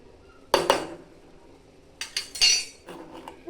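A spoon clinks and scrapes against a pot while mixing egg masala, a few separate close metallic knocks with pauses between, quiet otherwise.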